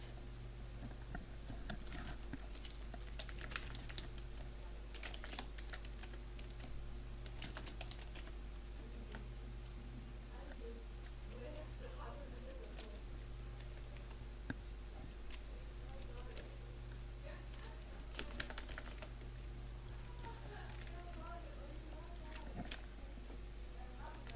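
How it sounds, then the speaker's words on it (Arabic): Keyboard typing while entering text in Photoshop, a quick run of soft clicks and taps under steady background hum, with a few louder bursts of keystrokes. "نكتب هنا مثلا تكست"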